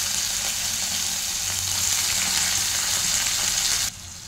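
Bitter gourd pieces frying in oil with cumin and mustard seeds, a loud, dense, continuous sizzle close up with faint stirring underneath, cutting off abruptly near the end.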